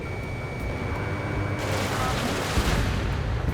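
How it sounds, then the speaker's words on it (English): A destroyed ground target explodes in the Ace Combat 7 flight combat game, a sudden loud blast and rumble over a steady jet-engine drone, with radio voices talking around it. "Mage 2, target destroyed."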